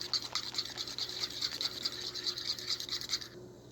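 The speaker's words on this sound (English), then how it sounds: "Mix the onion and tomato in a bowl. Add a pinch of salt. Beat the mix." An onion and tomato mixture is beaten in a bowl, a quick rhythmic scraping patter of a utensil against the bowl, steady and close, stopping abruptly near the end, no voices.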